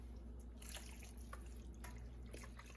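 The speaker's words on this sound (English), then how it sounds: "So what I am going to do now is add in our beef broth." Beef broth goes into a soup pot of hamburger vegetable soup, giving a quiet liquid trickle and a few drips over a low steady background hum.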